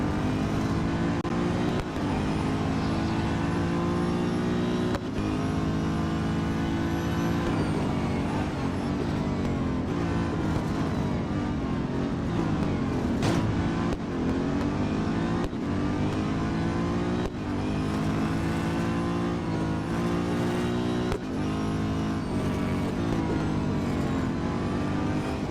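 Race cars in the mobile racing game Real Racing 3 at Interlagos roar continuously for the whole stretch, engines climbing and dropping through gear changes with harmonic whine, a steady loud wall of engine sound with no talking.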